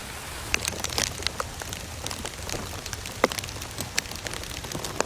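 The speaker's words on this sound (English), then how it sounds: "The rain has just been unrelentless." Steady rain patters on a surface nearby, with scattered sharper drops tapping over the constant hiss.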